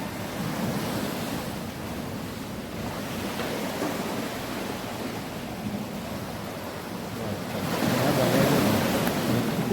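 Powerful waves crashing at Remarkable Cave in Tasmania, a continuous loud roar of surf mixed with wind buffeting, swelling louder toward the end, with no talking.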